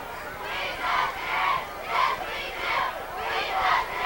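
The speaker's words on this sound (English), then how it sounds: "And the infamous "We Got Spirit" cheer comes from the Columbine side." Crowd on the Columbine Rebels side at a 1999 varsity high school football game against Arvada West, chanting a rhythmic spirit cheer in repeated swells roughly every half second, loud and massed, with no clear talk over it.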